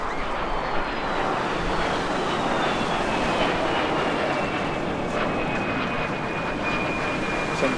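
A de Havilland Vampire FB.52 jet passes at the Eastbourne Airshow 2025, its loud broadband engine roar filling the air steadily with a faint whistling tone gliding downward as it flies by.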